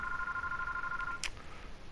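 A phone rings with a steady electronic tone that cuts off abruptly, followed by a brief click, over a low game background during a Call of Duty: Advanced Warfare multiplayer match.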